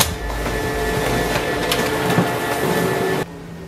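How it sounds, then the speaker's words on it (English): Printer running in a kitchen while printing a dissertation, a steady mechanical whir with rattling feed noises for about three seconds, then stopping abruptly. "This is the printer that's doing it in a kitchen."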